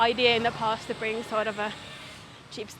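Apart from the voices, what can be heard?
No distinct noise like a dog, phone or traffic.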